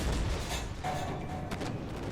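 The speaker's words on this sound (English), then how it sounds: "HE rounds shouldn't be doing that much. But here they are, tearing my tank apart with high explosive." High-explosive shells slam into a tank in the Armored Warfare game, heard as a dense, loud rumble of booming impacts that continues with no break.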